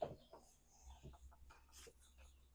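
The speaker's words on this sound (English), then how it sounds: "We've got the birds." Birds call outdoors, a few short clucking, chirping bursts scattered over quiet background, fairly faint and close.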